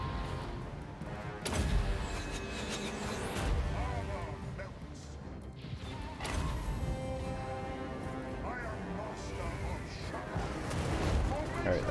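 Mortar artillery fire in Total War: Warhammer 2, heavy booming thuds at intervals over a constant roar of battle noise, with a voice talking over it.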